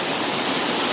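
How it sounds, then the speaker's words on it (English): Thomason Foss waterfall pouring into a foamy pool, a steady close roar of rushing water with no voices. "here we are at Thomason Foss Falls"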